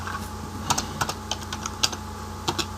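Fingers typing code on a computer keyboard, irregular individual keystrokes clacking close by over a faint steady hum, no voices.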